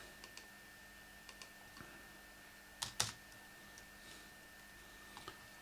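Sparse clicks from a computer keyboard while entering a command on a Raspberry Pi, with a brief louder flurry of keystrokes near the middle and isolated taps scattered around it, fairly quiet and without talk.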